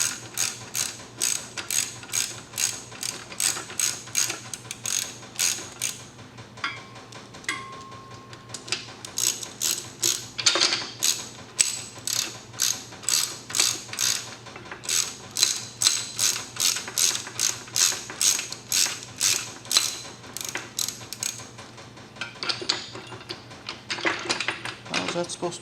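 The ratchet mechanism on a VEVOR 1322 lb transmission jack clicks rapidly and repeatedly in close, crisp bursts of metallic ticking with brief pauses, and faint talk can be heard in the background.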